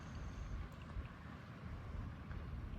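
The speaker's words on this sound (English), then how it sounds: "the sound of a boat motor in the distance" A distant boat motor drones low and steady, rumbling continuously, faint and even, with no voices.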